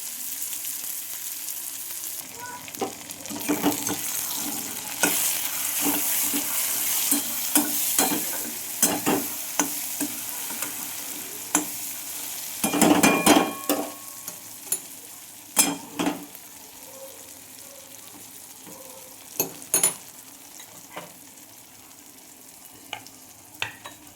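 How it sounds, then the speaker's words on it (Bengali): Onions and tomatoes fry in a pan, a steady sizzle broken by repeated scraping and clinking of a spoon stirring, close and moderately loud. "টমেটোও দিয়ে দেবো, একসাথে হয়ে যাবে ভাজা"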